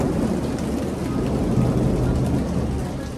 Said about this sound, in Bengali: 7:30 বাজে 2 ঘন্টা কন্টিনিউয়াস বৃষ্টি